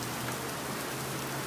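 Rain falls in New York City, a steady broadband wash with no voices or distinct events.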